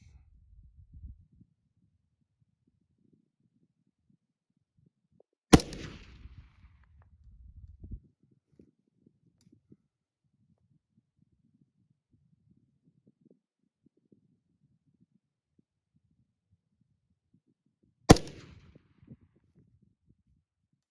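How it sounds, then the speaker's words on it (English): Two sharp rifle reports from a 6 ARC rifle firing Hornady 108-grain ELD factory ammunition, about twelve seconds apart, each loud and cracking with a short rolling echo tail, in otherwise quiet outdoor surroundings. "And I'll just shoot 3 rounds at this."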